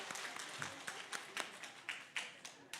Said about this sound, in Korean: 함께 박수로 환영해 주시기 바랍니다